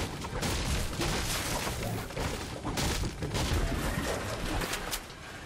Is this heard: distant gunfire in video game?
yes